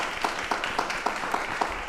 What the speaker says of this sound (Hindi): एक बार तालियां एक बार बजा दीजिए सर के लिए